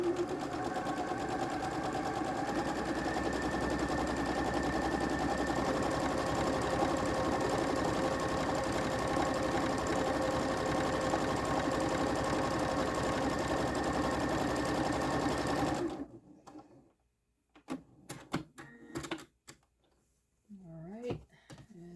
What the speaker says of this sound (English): sew on the other side of the line.